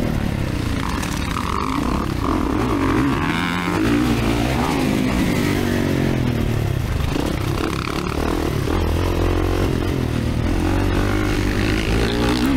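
A 2024 Kawasaki KX450 motocross bike revs hard and close at a motocross track, its engine roaring continuously on heavy throttle with rough rise-and-fall changes in pitch and some clattering.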